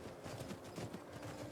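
Horse hooves clopping in the video game Skyrim, a steady fairly loud rhythmic patter of hoofbeats with no talking.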